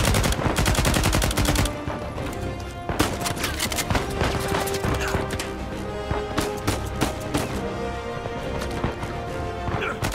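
Dense, loud gunfire in an Uncharted 4 firefight, with rapid automatic bursts and sharp single shots cracking almost without pause over a busy game soundtrack.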